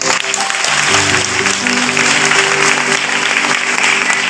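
Congregation at a Christian sermon breaking into sustained applause, loud and steady from many hands, with a faint held musical tone running underneath.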